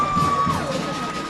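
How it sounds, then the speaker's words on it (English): A crowd cheers after a goal at a Ladies' College vs Bishop's College school hockey match, a brief burst of shouting and whooping, with a thin whistle-like tone over the noise. "The crowd goes wild here."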